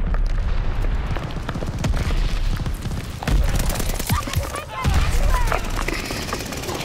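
Gunfire in the video game Call of Duty: Vanguard, dense bursts of rapid shots and booming impacts rolling continuously through the clip, fairly loud in the game mix.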